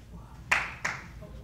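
Two sharp hand claps about a third of a second apart, fairly close, over a quiet low background hum.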